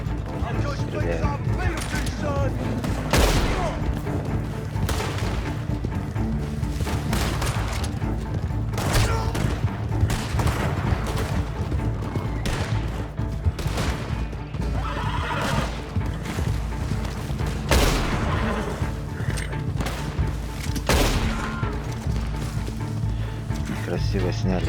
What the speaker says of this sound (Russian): Стреляет.